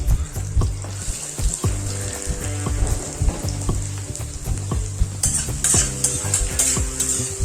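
Green chilies and onions frying in oil in a kadai with a cinnamon stick and two cloves, a steady close sizzle broken by repeated scraping stirs of a spoon against the pan.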